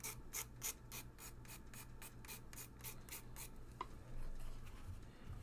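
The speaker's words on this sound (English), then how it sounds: "So you just take more pastel, scrape some more on there." Soft pastel is scraped onto a rubber stamp in quick repeated rasping strokes, a dry rhythmic rubbing that is faint and close, followed by quieter handling, with no speech.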